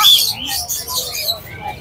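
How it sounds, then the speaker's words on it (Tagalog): Caged birds at a pet market chirp and tweet in short, bright calls, several overlapping at moderate distance, with low indistinct background noise. "Pino, dito kita ibablog sa grotto sa mga ibon."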